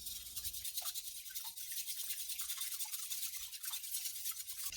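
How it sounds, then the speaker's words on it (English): Two eggs whisked briskly in a bowl, a fast, steady scratchy rhythm of the whisk against the sides, close and continuous with no talking. "we're going to crack 2 eggs and whisk them thoroughly"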